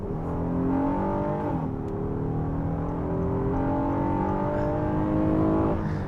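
A 2023 Honda Odyssey minivan's V6 engine climbs hard under heavy acceleration while overtaking, a steady rising whine with a brief dip at a gearshift before the pitch keeps sweeping upward, heard from inside the cabin.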